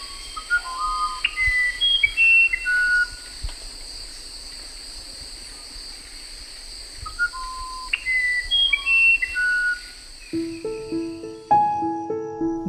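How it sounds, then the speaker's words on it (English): A musician wren, or irapuru, sings in the jungle, delivering clusters of clear, flute-like whistled notes that step up and down in pitch, with pauses between phrases and a steady insect hum behind. "In English, it's called a musician wren."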